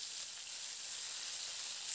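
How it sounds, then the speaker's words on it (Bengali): Fish pieces frying in hot mustard oil in a wok, a steady, even hiss of sizzling that holds close and constant with no voices. "এবার এক এক করে মাছগুলোকে ছেড়ে দিয়ে মাছগুলোকে এপিট এপিট করে ভেজে বেশ লাল লাল রং ধরা পর্যন্ত মাছগুলোকে ভেজে নেব।"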